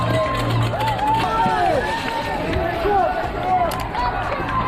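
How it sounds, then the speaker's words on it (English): A big roadside crowd at Tower Bridge during the London Marathon shouts and cheers in overlapping whoops and calls, with a steady hubbub of voices and runners' footsteps close by. "There are so many people just shouting and cheering your name."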